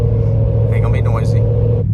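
Wide Landspider Wildtraxx mud-terrain tires droning loudly on an interstate as the vehicle accelerates, a steady low roar and hum filling the cabin with a faint rising whine on top.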